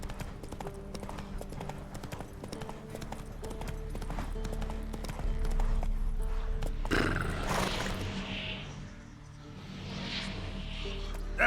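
Geralt's horse Roach gallops in The Witcher 3, a steady rapid clip-clop of hooves close by, with a whinny and a louder rush of motion midway before the hoofbeats continue.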